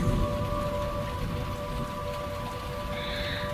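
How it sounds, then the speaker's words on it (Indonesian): Rain falls steadily in a continuous dense hiss at night, with a faint steady hum running underneath. "hujan yang tak kunjung reda."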